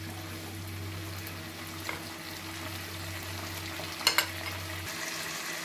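A soft, steady sizzle of baby corn Manchurian frying in a pan as soy sauce is stirred in, with a few light clinks of utensil against the pan.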